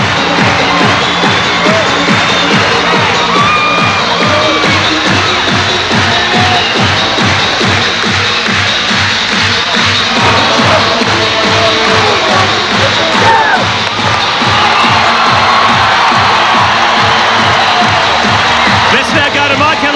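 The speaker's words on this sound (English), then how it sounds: "Just listen to the crowd." Basketball arena crowd roaring after an upset quarterfinal win in the 1993 NBL, a dense, loud, sustained wall of cheering and whooping with shuffling and scattered shouts, continuous for the full stretch.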